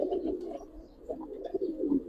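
Giribaz pigeons coo softly and continuously at close range, their low, rolling calls overlapping.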